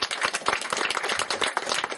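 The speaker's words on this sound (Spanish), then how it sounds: "Un fuerte aplauso para Cristo." A church congregation at a memorial gathering claps in a brisk, dense burst of applause, close and lively throughout.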